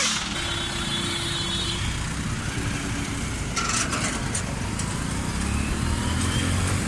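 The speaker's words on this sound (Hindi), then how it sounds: "तो भाइयों 2500 आरपीएम पे ट्रैक्टर बहुत तेज जा रहा भाई।" A Mahindra 575 tractor running fast on a road at about 2500 rpm, a continuous loud engine drone with road and wind noise throughout, no speech.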